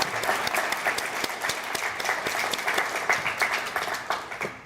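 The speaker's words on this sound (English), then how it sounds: "Can we give him another round of applause?" A crowd at a student leadership recognition ceremony claps steadily for several seconds, a dense, sustained round of applause with no voices over it.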